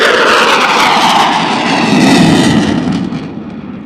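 A fixed-wing aircraft performs a max rate turn at an air show, its loud jet engine roaring continuously and close by, swelling and then slowly fading as it sweeps around in a tight circle.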